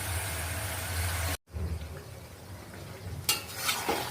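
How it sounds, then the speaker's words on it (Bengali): Beef being stirred and sautéed in a wok, a continuous frying hiss broken by a brief silent cut, then quieter sizzling with metal spatula scrapes and clinks toward the end. "এই যে গরু মাংসটাকে আমি এখন কষিয়ে নিচ্ছি।"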